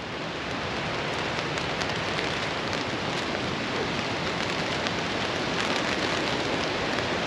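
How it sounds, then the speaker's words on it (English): Steady rain falls outside at night during a bikepacking trip, a dense even patter on the surface close by, continuous and fairly loud with no voices. "calm down now, the rain is just starting."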